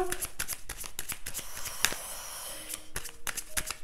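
Tarot cards are shuffled close up in a rapid run of crisp riffling slaps and slides, with one sharper snap partway through, and no voices.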